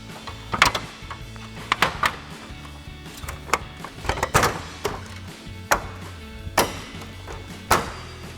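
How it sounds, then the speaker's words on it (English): A new Denali-style upper replacement grille for a 2019-2021 Sierra 1500 is pressed into place, with a series of sharp plastic clicks and knocks as its tabs snap in, spaced irregularly and close by. "So now we can take our new grill, line up all of our tabs, and push this in place."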